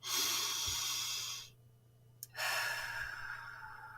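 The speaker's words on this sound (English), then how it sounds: "Take another one in through your nose, down into your belly, and then blow it out." A close, deliberate breath: one long airy inhale, a brief pause, then a slow, full exhale blown out through the mouth, with no words spoken.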